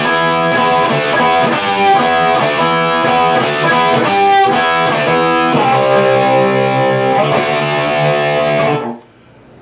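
A distorted electric guitar plays the chorus riff of a song, chugging through repeated chords with changes partway through. It is loud and continuous, then stops abruptly near the end, with no voices.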